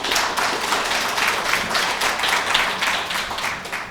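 An audience at a community forum applauds, a dense, steady wash of many hands clapping that fills the room evenly and loudly from start to finish.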